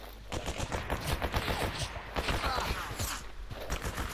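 Rapid, irregular gunfire from the video game S.T.A.L.K.E.R. Anomaly, dense shots cracking in quick succession throughout, fairly loud and continuous like several weapons firing at once.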